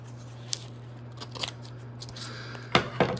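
Scissors or a blade cutting through the sealed packaging of a Windows NT Workstation 4.0 box, heard as a few quiet snips and crinkles over a steady low hum.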